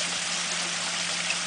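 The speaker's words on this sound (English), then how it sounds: "This smaller waterfall" A small pumped waterfall in a backyard garden water feature, fitted with a UV light, gives a steady, close rush of splashing water that continues evenly with no voices.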